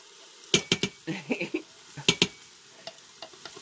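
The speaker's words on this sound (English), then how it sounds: "we're going to let this saute with the pumpkin in it" Pumpkin sautéing in an Instant Pot, heard as a handful of sharp utensil scrapes and stirring knocks in quick clusters against a faint, low sizzle, close and fairly quiet.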